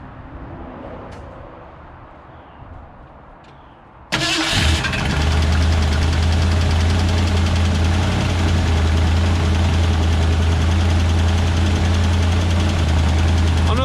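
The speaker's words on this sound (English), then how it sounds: "So I wanna crank it up and let you hear the ticking." After a few seconds of quiet background, a 1968 Ford F100 truck engine cranks and catches abruptly, then runs at a loud steady idle with a faint rapid valve ticking.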